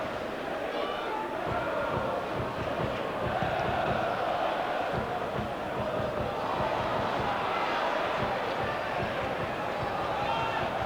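Dense, steady roar of a large football crowd at an FA Cup third-round match between Huddersfield Town and Liverpool, a continuous wash of chanting and murmuring that stays loud and unbroken throughout.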